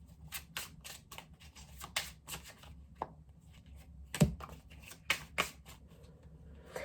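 Cards being shuffled in quick riffling bursts and soft flicks, close by and fairly quiet, with occasional sharper snaps between the shuffles.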